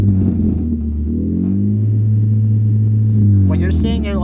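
Car with a modified aftermarket exhaust holding raised RPM, a loud, steady, deep droning rumble that swells slightly and eases, close by and continuous.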